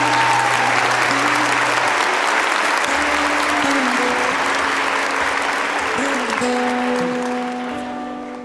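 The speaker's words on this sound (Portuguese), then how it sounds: "Aplauda este amor de Jesus" Steady applause fills a church during a Holy Week sermon, a dense wash of clapping that holds for several seconds with sustained musical tones beneath it and eases off near the end.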